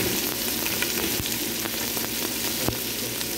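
Chopped shallots with crushed garlic and ginger sizzle steadily in a hot pan for a mutton head curry, a soft continuous crackling fry with occasional stirring scrapes, close and alone.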